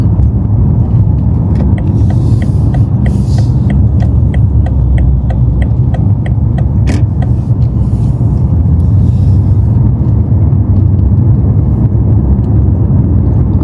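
A BMW M5 drives along in Newcastle upon Tyne, its engine and road noise a loud, steady cabin rumble, with a regular ticking of the indicator on and off partway through.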